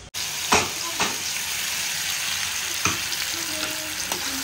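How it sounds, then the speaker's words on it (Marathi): Spices crackle and sizzle in hot oil for a Maharashtrian tempering before a ground paste of onion, coconut, green chilli, garlic and ginger goes in; a steady close frying hiss carries a few sharp pops and crackles throughout. "आता इकडे तेल ठेवलं आहे आणि आता आपण फोडणी देऊया"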